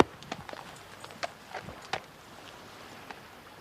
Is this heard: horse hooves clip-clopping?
yes